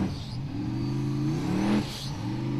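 Formula offroad car crawling down a hill at an Icelandic event in Akureyri, its engine holding a steady mid-pitched drone with a slight rev swell near the end, close and fairly loud, without any talk.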